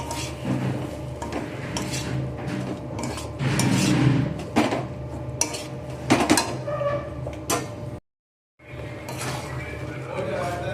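Boiled banana flower is stirred into a pot of masala, a spoon scraping and clinking against the metal pot in a steady close clatter, with a brief dropout near the end and a voice talking over it.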